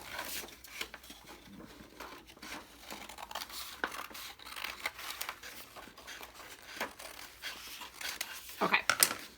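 Scissors snip through a folded paper circle in a craft setting, a series of close, crisp crunching cuts and paper rustles spaced unevenly, with a brief sharper clatter at the end and a voice talking underneath.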